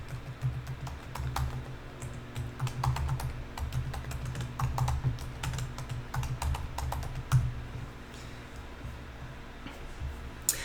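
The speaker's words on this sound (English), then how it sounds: "then I'm going to start typing" Steady typing on a computer keyboard, quick irregular key clicks at close range with no one speaking.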